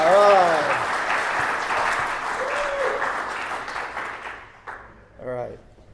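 Convention audience at PulpFest 2019 in Pittsburgh applauding a talk, a dense wash of clapping that fades out while a speaker's voice carries over it and continues alone at the end.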